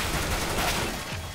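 Rapid bursts of MAC-10 submachine gun fire in CS:GO crackle loudly and continuously through the whole moment, dense and close, with no voices.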